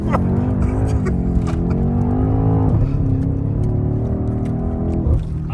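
A BMW X6M SUV drifting, its engine droning loudly with a steady, wavering pitch that dips and rises as the throttle shifts, close and continuous throughout.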